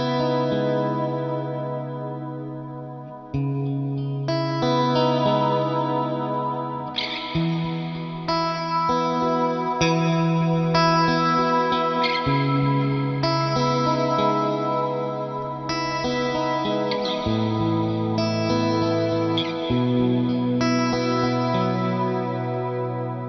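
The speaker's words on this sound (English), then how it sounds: "And here it is now with the Liquid Ambience on." Electric guitar through a Flux Effects Liquid Ambience reverb pedal set to a large room size, playing sustained chords and arpeggiated notes that bloom into a wide, shimmering wash with chorus-like movement and long decaying tails, steady and loud with no talking.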